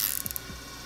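A valve spring compressor tool on an LS engine being slowly backed off, giving a quick run of several close ratchet clicks at the start followed by a faint mechanical creak, alone and near.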